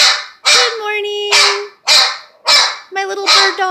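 A bird dog barks repeatedly at home, with five or six loud, sharp, close barks in quick succession, some ending in whiny yips, and no one talking.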